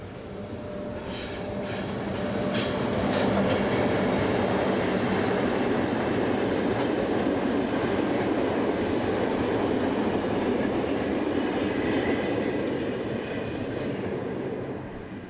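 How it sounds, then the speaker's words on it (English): Class 1044 electric locomotive 1044-039 pulls into Saalfelden station with a passenger service, a steady loud rumble of wheels and rolling stock with faint squeals, swelling near and holding throughout. "1044-039 arrives with the 1427 service from Vogel."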